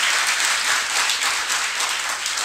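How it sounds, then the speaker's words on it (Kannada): An audience at a stage event gives warm applause to a guest honoured by the host, a dense and even wash of many hands clapping throughout. "ಅವರಿಗೆ ನಿಮ್ಮೆಲ್ಲರ ಪ್ರೀತಿಯ ಅಭಿಮಾನದ ಚಪ್ಪಾಳೆಗಳನ್ನು ಅವರಿಗೆ ಸಲ್ಲಿಸ್ತಾ"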